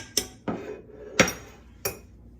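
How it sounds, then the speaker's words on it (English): A utensil mixes dessert batter in a bowl just after butter is added, making four sharp, separate clinks against the dish, spaced irregularly over quiet background. "I'm gonna give this a quick little mix as well"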